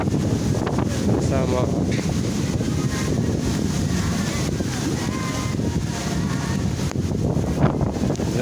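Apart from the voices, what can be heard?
strong gusting wind on the microphone at a riverside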